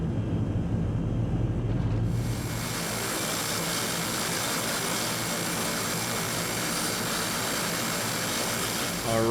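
Fokker 50 turboprop engine starting in the X-Plane 11 flight simulator, a low rumble that gives way after a couple of seconds to a steady, loud whining drone with a high tonal whine.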